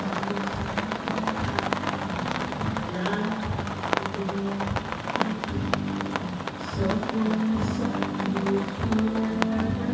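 Steady rain falls on a sailboat, pattering on its surfaces with dense, irregular drops, heard up close and fairly quiet over a low background rumble.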